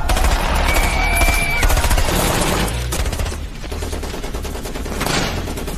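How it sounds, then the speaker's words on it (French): Continuous dense gunfire from a war film, with rapid machine-gun bursts and overlapping shots forming a loud, steady barrage across the whole stretch. "Tire vraiment dessus."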